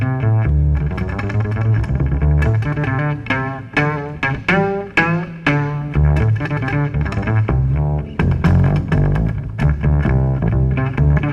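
Upright bass violin played in bass-guitar-style rhythms, punchy plucked notes in busy syncopated patterns with short pauses, loud and close with no voices.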